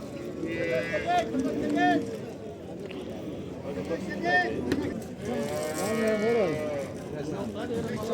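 Cattle moo repeatedly at a livestock market in Barda, with several drawn-out calls rising over a crowd as people talk nearby.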